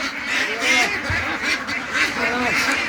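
Many ducks on a Bangladeshi duck farm quack in a dense, overlapping chorus, close and steady throughout, with faint voices and handling noise mixed in.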